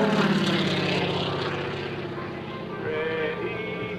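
A propeller-driven aircraft roars loudly through aerobatic loops and aileron rolls at a 2003 Rhode Island Air National Guard open house airshow, its engine droning steadily and shifting in pitch as it climbs and turns.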